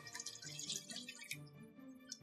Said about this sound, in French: Versez le lait tout en mélangeant.